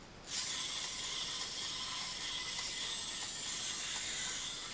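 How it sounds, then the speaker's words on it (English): A wind-up head on a 1990s Happy Meal toy is cranked, giving a steady, close whirring hiss of small gears that holds evenly for several seconds with no speech. "when you crank up their heads, they're meant to move"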